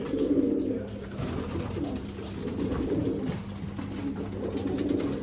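Pigeons coo steadily in a loft where blue homing pigeons are being bought, a low rolling murmur from several birds overlapping throughout.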